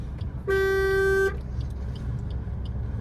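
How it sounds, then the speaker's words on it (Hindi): A single loud car horn blast lasting under a second during a driving lesson, over a low rumbling engine idle in the background. "चलिए हॉर्न दीजिए जरा, सुन हटेगा पब्लिक, हॉर्न दीजिए ना"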